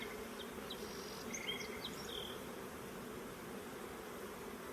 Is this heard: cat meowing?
no